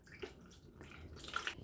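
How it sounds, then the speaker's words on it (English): Water poured from a carafe into a coffee maker's reservoir up to the 6-cup line, a soft, steady splashing trickle lasting under two seconds with a brighter gurgle near the end, close and fairly quiet. "So I'm going to pour it to the 6-cup line for the water."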